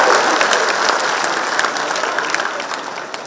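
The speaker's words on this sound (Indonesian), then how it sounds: "tokoh yang luar biasa, Bung Dasko, kita berikan tepuk tangan." Applause from an audience at an Indonesian political gathering, a dense burst of clapping that starts loud and slowly thins out over a few seconds, with no talking over it.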